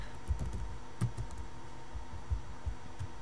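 Commands are typed on a computer keyboard in short bursts of close, soft key taps with a few heavier strokes, with no voices.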